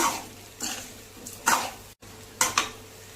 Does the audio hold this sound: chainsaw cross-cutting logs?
no